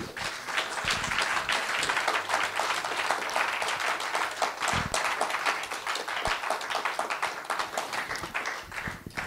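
A church congregation claps steadily and fairly loudly, a sustained dense patter of many hands with no voices over it.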